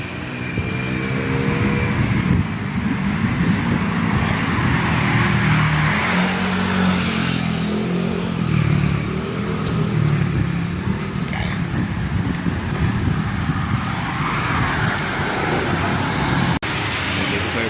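Cars and other vehicles pass steadily along a residential street lined with houses, a continuous rumble of traffic close by, with someone talking over it throughout.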